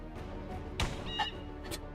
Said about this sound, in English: Just regular old bird noise.